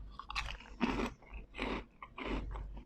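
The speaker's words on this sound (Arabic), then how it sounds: "والقرمشة زي ما انتوا سامعين" Close, loud crunching of imported snack crisps (not potato chips) being eaten, arriving in about five distinct bursts of bites and chewing with short quiet gaps between them.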